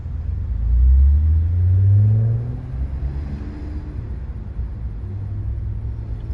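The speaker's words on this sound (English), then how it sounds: "It's idling a bit rough, but the fuel's probably really old. I think it's got a bit of a misfire." A Ford Falcon EA engine idles roughly with a misfire, giving a steady low rumble that swells briefly near the start and then settles into an uneven, unsteady drone. No one speaks.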